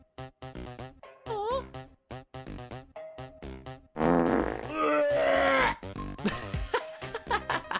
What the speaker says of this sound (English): He just burped in my face.